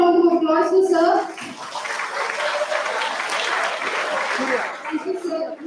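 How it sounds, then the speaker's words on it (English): A conference audience at a medical and health sciences event gives a round of applause, a broad steady clapping that swells after a speaking voice at the start and fades near the end as talk resumes. "Can we give another round of applause to sir?"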